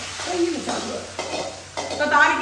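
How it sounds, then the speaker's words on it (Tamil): Shallots sizzle and crackle in hot oil while a spoon stirs and scrapes against the pan, close and moderately loud. "இந்த மாதிரி வறுத்து தாளிக்கிறதுக்கு சின்ன வெங்காயம் வதக்கவும்"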